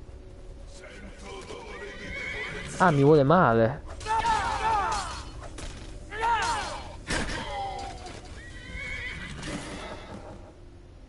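A horse in the video game Skyrim whinnies loudly in a long quavering neigh, followed by several shorter whinnies and snorts amid hoof clops, with someone speaking in between.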